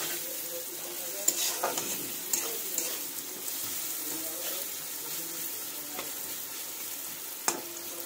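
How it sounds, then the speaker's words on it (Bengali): Bitter gourd frying in oil with turmeric and salt gives a steady, moderate sizzle with occasional stirring scrapes and clinks, close by and without speech. "দিয়ে আমি এটাকে ভাজবো।"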